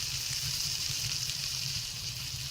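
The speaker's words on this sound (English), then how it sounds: "let's use our frying pan some more, shall we? We'll make an egg." An egg frying in a pan in the video game FFXIV, a steady soft sizzle with a low crackling hum underneath, continuous and unbroken.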